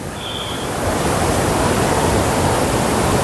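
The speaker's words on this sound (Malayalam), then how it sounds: "ഭയങ്കര മഴ പെയ്യാൻ തുടങ്ങി കേട്ടോ." Heavy rain pours down at a dam in Idukki, making a dense, steady hiss that swells slightly and holds loud and close, with no talk.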